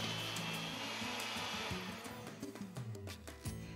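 Electric hand mixer beating lemon cake mix and instant pudding mix into batter, a steady close whirring drone that wavers and shifts pitch toward the end as the beaters move through the bowl.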